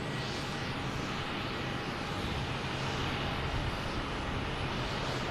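An airplane at Boston Logan Airport roars with a loud, steady broadband engine rush that swells slightly as it holds across the whole moment, with no voices.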